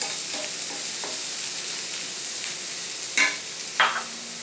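Shiitake mushrooms with capers stir-frying in a hot pan, a steady close hiss of sizzling with a few brief scrapes and stirring clatters toward the end.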